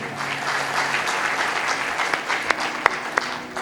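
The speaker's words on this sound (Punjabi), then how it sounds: "ਤਾਲੀ ਮਾਰੀਏ ਜ਼ੋਰ ਦੇ ਨਾਲ" A congregation applauds during a church sermon, giving sustained crowd clapping with a few sharp, louder individual claps standing out near the end.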